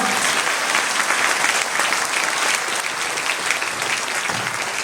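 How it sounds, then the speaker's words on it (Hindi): A church congregation at a Sunday service claps in praise of God, a loud, dense, continuous wash of many hands that holds steady throughout. "एक बार परमेश्वर को ताली बजाकर स्तुति करेंगे"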